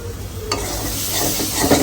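Food cooking in a pot on a home stove, with a steady close sizzle and the scrape of stirring, growing a little busier toward the end.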